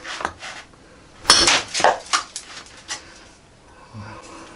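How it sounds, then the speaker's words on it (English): A thin cleaver, a BCMW W2 64rc, chops on a board with several sharp irregular impacts, a loud cluster near the middle followed by lighter taps, against a quiet background. "So I'm just going to chop that."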